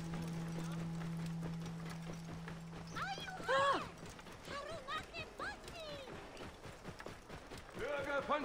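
Hoofbeats of a horse ridden at speed in Assassin's Creed Origins, a steady clip-clop running throughout, with voices speaking over the middle and end.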